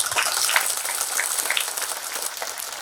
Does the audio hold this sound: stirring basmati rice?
no